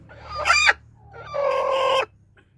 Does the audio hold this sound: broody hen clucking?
yes